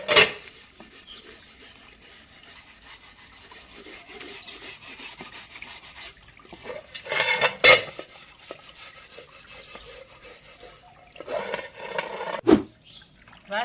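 Pots, dishes and utensils being scrubbed and washed by hand: a steady close rubbing and scraping, with louder clatters of handled vessels near the middle and end. No one speaks.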